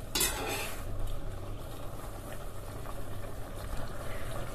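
Peppers simmer in a pot of boiling water while a utensil stirs them, a steady bubbling wash with soft scraping and clinks, loudest in the first second, with no talking.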